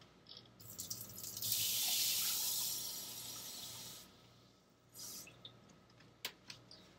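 A cup of water poured into a measuring cup for baking, a rushing splash that swells and then fades, followed by a few drips and small knocks, close by.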